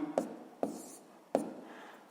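A math answer is written down in three short, separate strokes, each a soft scratch with a slight tap at the start and a trailing rasp, quiet and close with no speech.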